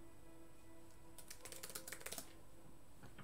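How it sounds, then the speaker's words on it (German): Fast, light typing on an Apple iMac Bluetooth keyboard, a quick run of soft key clicks heard up close against a quiet background hum. "Texte eintippen und zwar so schnell eigentlich, wie es nur geht."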